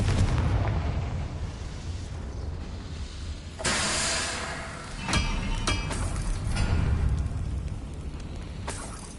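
Fire spell explosions in the Hogwarts Legacy video game: two loud, booming blasts over a constant roar of in-game noise and rumble, followed by lighter pops and clinks.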